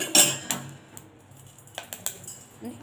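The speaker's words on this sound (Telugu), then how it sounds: "అవి చూడండి వేయగానే ప్యానాలు ఎలా అయితే వేగుతాయో పడపడమని అలా సౌండ్ చేస్తున్నా చూడండి" Fenugreek seeds dry-roasting in a pan with peppercorns for sambar powder, giving sparse, sharp crackles and pops: a loud burst at first, then scattered clicks over faint background noise.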